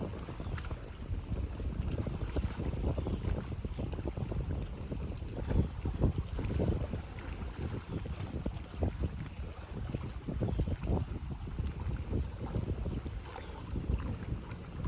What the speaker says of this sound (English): I could listen to the sounds of these waves lapping all day.